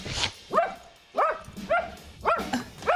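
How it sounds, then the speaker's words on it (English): Vicious dog barking in a series of sharp, close barks, roughly five or six bursts spaced at an uneven rhythm. "By a vicious dog."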